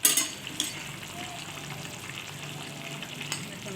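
Fish going into a simmering cauliflower and potato curry in a pot, giving a steady close sizzle and bubbling with a couple of sharper splashy bursts at the start, no talking.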